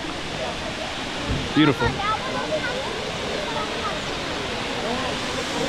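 Next to hot pools in Colombia, a waterfall roars in a steady, loud, broad wash of noise, with a brief spoken word partway through.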